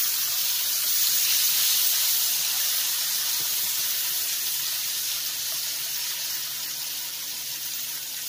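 Ground peas sautéing in a pan for a sweet pea halwa, heard as a broad, steady hiss that fades slightly over several seconds.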